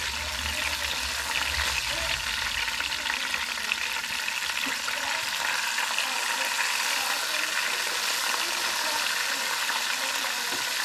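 Flounder fillets sizzle and spit in a hot frying pan, a steady, dense crackle of frying oil that runs without a break at close range.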